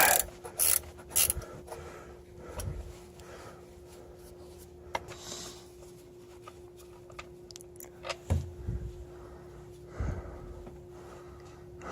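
A 13 mm socket ratchet works loose an oil drain plug under a car, giving bursts of clicking and metallic scraping with pauses between, close and moderately loud over a faint steady hum.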